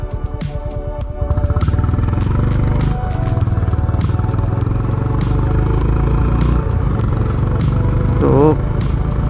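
A Honda H'ness CB 350 motorcycle rides along a straight road, its engine a steady, loud low drone with rapid ticking clatter over it throughout, while a rider talks over the noise.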